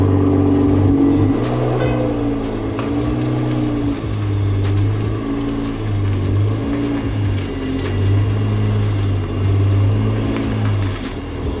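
Idling engine of a Toyota Supra as the car sits in reverse, a steady low hum with slight rises and dips throughout, close and continuous with no talk.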